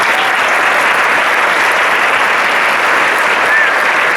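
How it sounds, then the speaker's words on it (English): Sustained, dense applause from a high school band concert audience for the jazz band at a spring pops concert, steady and loud throughout with no break. "Please give them a round of applause."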